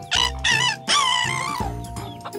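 A voice imitates a rooster's crow, giving two short syllables and then a long drawn-out call with rising and falling pitch. The imitation is loud, close and heard alone.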